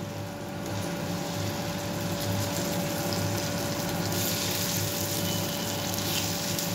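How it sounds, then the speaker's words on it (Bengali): Marinated chicken pieces frying in hot butter for butter garlic chicken, a steady broadband sizzle and hiss that holds evenly throughout, loud and close, with a faint low hum underneath. "ম্যারিনেট করা চিকেনগুলো আমি একটু ভেজে নেব"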